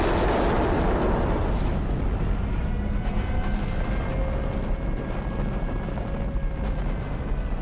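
A massive, deafening blast roars out as the battleship USS Arizona explodes, followed by a long, rumbling, crackling tail that rolls on without fading.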